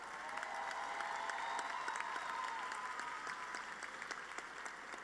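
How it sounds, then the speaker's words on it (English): Sustained applause from a commencement audience cheering graduates of the College of Education, steady crowd clapping with a few distinct sharp claps and a faint tone running underneath. "a round of applause for the graduates from the College of Education"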